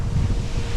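Strong tropical storm wind buffets the microphone at a stop on a road trip in a 2023 Chevy Bolt, a steady, loud low rumble with no pauses.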